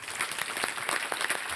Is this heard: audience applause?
yes